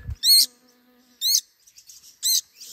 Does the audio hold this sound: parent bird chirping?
yes